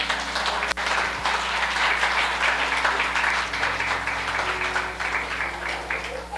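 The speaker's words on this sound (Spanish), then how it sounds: "Denle un aplauso al Señor." A church congregation applauds, a steady wash of clapping over a low hum from the room's sound system, lasting several seconds.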